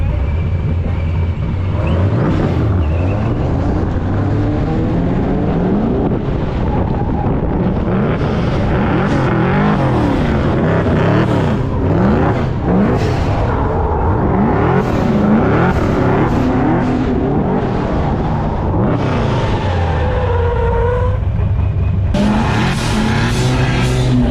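Nissan S14 drift car with 650 horsepower on a slick track during spring drifting: loud, sustained engine revving with repeated rising and falling pitch sweeps and bursts of throttle over about 24 seconds, with no talk.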